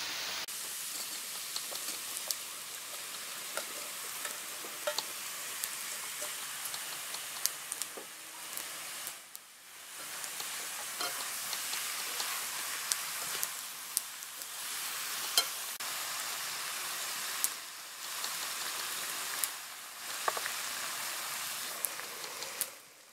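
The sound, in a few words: peppers frying with stewed carrots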